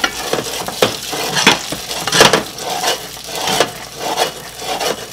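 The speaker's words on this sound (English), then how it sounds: "So the first one we're going to actually saute off, put it in and let it start doing what it do" Snow peas sauté in a hot stir-fry pan for a veggie and chicken stir fry, with steady sizzling and repeated scraping, stirring strokes of a utensil against the pan, close and fairly loud.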